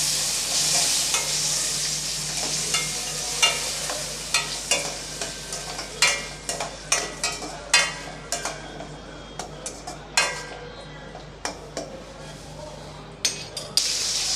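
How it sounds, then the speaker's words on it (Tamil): Shallots and tomatoes sauté in a pan, a steady soft sizzle broken by repeated scraping clinks of a spoon stirring against the pan, close and clear, with a voice talking at times. "சேர்த்து நல்லா வதக்கி விட்டுக்கலாம்."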